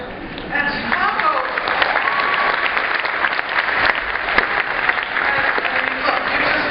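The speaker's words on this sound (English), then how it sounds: "look, the applause you just got." Audience applause at a University of Chicago talk in 2013, dense steady clapping from a large room with voices and cheers mixed in throughout.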